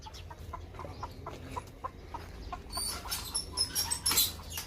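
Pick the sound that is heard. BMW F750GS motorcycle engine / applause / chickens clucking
chickens clucking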